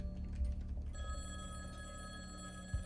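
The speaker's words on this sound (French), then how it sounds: "Le téléphone son!" A telephone rings in the video game Fey: Distant Daydream, a steady electronic tone starting about a second in and continuing clearly to the end, with brief low thumps around it.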